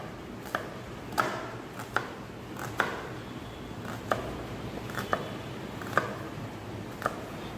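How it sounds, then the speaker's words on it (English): A knife finely chopping onion on a cutting board during a cooking demonstration, giving about a dozen sharp, fairly even taps close by, with no talking. "now you start fine chopping the onions"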